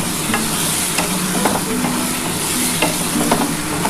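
Ground water spinach paste is stirred and scraped in a hot pan to dry it out, with a continuous close sizzle broken by repeated scraping strokes of a spoon against the pan.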